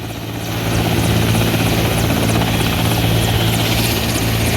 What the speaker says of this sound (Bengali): সকল হেলিকপ্টার চালু হয়ে গিয়েছে, দেখতেই পাচ্ছেন আপনারা।